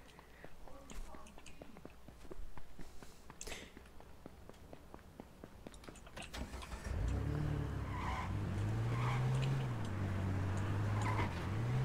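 A car engine in a battle royale video game turns over and then drones steadily, rising and falling in pitch as the vehicle drives, following a stretch of clicky game sounds and muffled effects; no clear talk over it.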